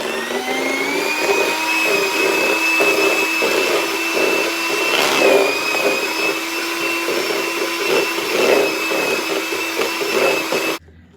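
An electric mixer creams red velvet biscuit ingredients with evaporated milk on medium speed, a loud steady whirring drone with a sustained whine that runs for about ten seconds before cutting off.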